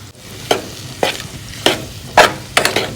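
Samosa filling being stirred in a pan as salt and chili are mixed in: about five distinct scraping strokes at a steady pace over a low sizzle, close up and with no talking.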